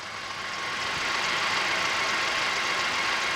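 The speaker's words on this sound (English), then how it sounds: "This is a nice tractor. It's a big tractor." A big Mahindra shuttle-shift tractor engine idles with a steady, even rumbling drone that holds constant and fairly close, with no voices over it.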